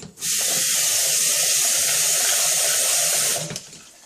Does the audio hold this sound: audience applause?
no